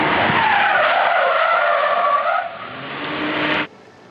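A heavy Lincoln car's tires skid and squeal loudly through a fast reverse J-turn at about 25 miles an hour, a sustained harsh screech that wavers in pitch, eases and then cuts off abruptly.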